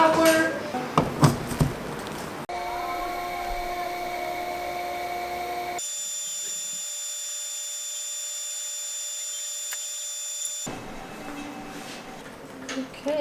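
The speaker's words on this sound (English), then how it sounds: "Let's do some engraving now, and let's just connect the hose and run everything through" A laser engraver with a smoke extraction hose attached runs with a steady fan-like hum and faint tonal whine, framed by brief handling noises at the start and end.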